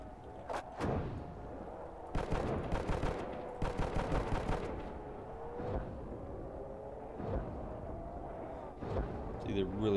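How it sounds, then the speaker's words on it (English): Rapid bursts of M60 machine gun fire in a World at War zombies custom map at Beachtown, with loud rattling volleys and single shots over a low game drone, with a voice talking underneath. "All I'm gonna do up here is shoot motherfuckers."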